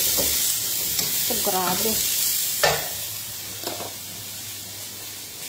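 Two chili peppers sizzle and hiss loudly while stir-fried in a pan, a steady frying roar with a few scraping stirs, and a voice briefly exclaims over it.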